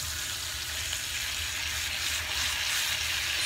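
Meat sizzles and crackles steadily in a hot frying pan as the pieces are flipped over, a close, continuous hiss with a low bubbling underneath and no talking.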